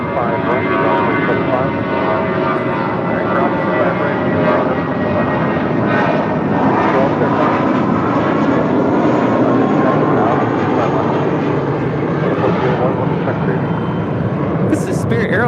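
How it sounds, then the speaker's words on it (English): Spirit Airlines Airbus A320 jet taxiing and departing, a loud, steady engine roar filling the whole stretch, with radio chatter and voices partly heard beneath it. "This is Spirit Airlines 631 departing to Atlanta on an A320."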